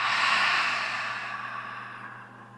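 A single long, full breath is exhaled through the mouth in a close, airy whoosh that slowly fades over about two seconds, with no talking over it.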